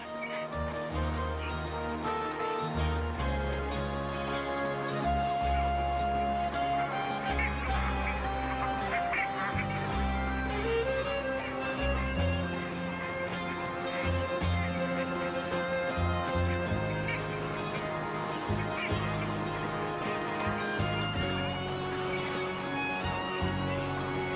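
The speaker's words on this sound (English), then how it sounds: "Flock after flock of migratory birds arrive at the center of the city." Many migratory water birds on the Danube call at once in a city center, a dense chorus of honks and quacking cries overlapping continuously at moderate distance.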